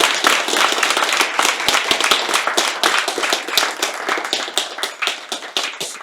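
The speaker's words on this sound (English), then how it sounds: "another round of applause for him" Listeners at a technical talk applaud the speaker, producing loud, close and busy clapping in which individual sharp claps stand out, sustained across several seconds and thinning slightly near the end.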